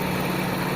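Honda FD (Dimension) car engine idling steadily with a low, constant hum and slight vibration, close by, sounding alone without talk.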